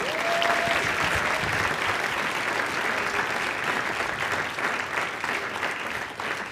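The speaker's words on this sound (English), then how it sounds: "I think that deserves another round of applause." Sustained round of applause from a conference audience at the close of a session, dense and steady throughout, with a whistle near the start and no speech over it.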